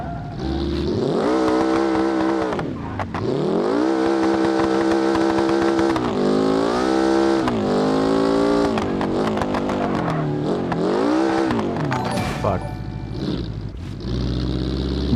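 A car engine in a driving video game revs and drones through repeated rising and falling sweeps as the car drifts, loud and steady with brief dips between pulls.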